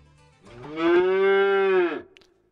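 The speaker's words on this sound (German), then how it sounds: "Ach so, das sind Kühe." A single cow gives a long, low, close moo with a steady drawn-out tone before it fades, in the farming video game Agrar Simulator.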